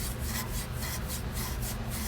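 A Scotch-Brite pad scrubbing the sticking throttle linkage of a 1960 Fiat Millecento, a close, even abrasive rubbing in fast rhythmic strokes.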